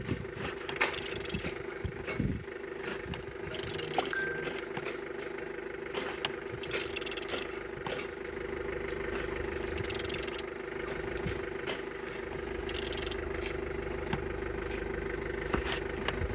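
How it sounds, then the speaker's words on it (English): A BMW M57D30 (306D1) diesel engine cranks over and runs on a test stand, a steady, dense mechanical drone with a rattling texture and occasional clanks and scrapes, close and continuous throughout. "Engine is turning good."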